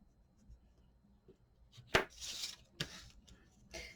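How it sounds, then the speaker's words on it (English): Paper pressed and creased against the spine of a chipboard hardcover folio, giving a sharp scraping rub, then a few softer swipes and taps, close and alone in a quiet room. "I'm just creasing the paper so it's nice and tight up against the spine"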